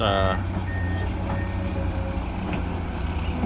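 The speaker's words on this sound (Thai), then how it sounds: "รถพวกนี้ปกติก็เป็นรถขนอ้อยนะครับ" A sugarcane hauling truck rumbles nearby with a steady engine drone, while a short burst of reversing beeps sounds at the start.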